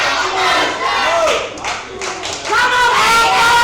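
Wrestling arena crowd at an AWS Fatal Attraction 2022 show, loud roaring cheers and shouts rising and falling in waves with scattered clapping, close and full throughout.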